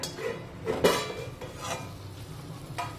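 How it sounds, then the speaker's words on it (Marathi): A lid lifts off a kadhai of brinjal dry curry that has cooked for twelve to fifteen minutes, giving a short metallic clink and scrape over a faint background sizzle, followed by a few quieter utensil knocks. "आता बरोबर बारा ते पंधरा मिनिटे झालेली आहेत कढईवरचं आपण झाकण काढूया"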